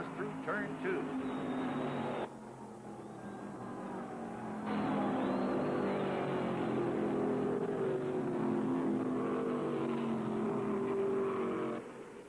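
Stock cars in the 1974 World 600 race pour through a turn as a pack, their engines roaring beneath a commentator's voice, the roar swelling louder partway through.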